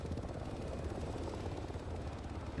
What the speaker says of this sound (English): Here's your new helicopter.